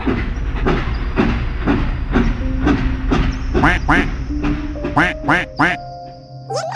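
A cartoon toy train rolls along with rhythmic clickety-clack beats and squeaky, honk-like toots, fairly close and bright, with some character talk mixed in.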